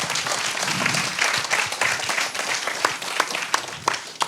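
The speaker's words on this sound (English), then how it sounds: "Give yourselves a round of applause to the audience" An audience at a theatre performance and Q&A about prostate cancer applauds, giving dense continuous clapping that thins toward the end, with a few louder individual claps standing out.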